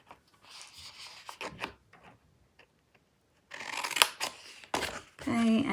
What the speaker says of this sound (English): I'm actually going to snip them. So I'm going to cut straight into that score line